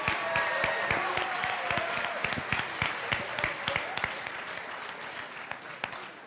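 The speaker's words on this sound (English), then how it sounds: "Let's give another round of applause to the parents of the 2014 homecoming candidates" A crowd in a school auditorium gives sustained applause to the parents of 2014 homecoming candidates, with dense clapping and sharp individual claps, fading a little toward the end.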